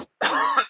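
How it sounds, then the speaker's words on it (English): A single short throat clear rasps close to the microphone, a quick gravelly burst after a tiny catch of breath, with nothing else around it. "Let me clear my throat here."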